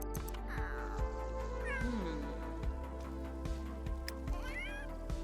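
A cat in The Sims 3 meows loudly several times with rising and falling, wailing calls over a low steady background hum.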